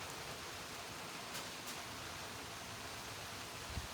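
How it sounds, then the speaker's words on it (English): Rain falling outside, heard from indoors as a steady, even wash of soft hiss that holds through the whole stretch with no voices over it. "outside it has started to rain"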